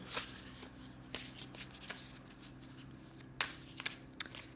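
Oracle cards being shuffled for a tarot reading, close papery riffles and soft slaps in uneven bursts over a quiet hum, with no talking.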